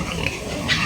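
Landrace piglet grunting in short, soft bursts over a steady noisy background, close by and moderately loud.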